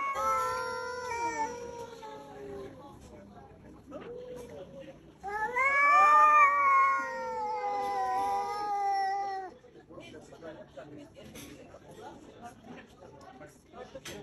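Cats fighting yowl and caterwaul in long, wavering howls, two drawn-out bouts close by, with quieter rustling between them.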